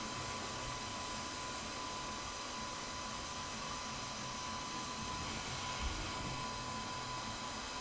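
A hair dryer runs continuously, a steady airy whoosh with a faint whine, unchanging and fairly close throughout.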